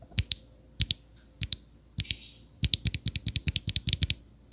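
Keys clack crisply on a Win68 Max magnetic keyboard, first as a few scattered presses and then as a quick run of typing. Each press is sharp and close, with a soft, controlled sound.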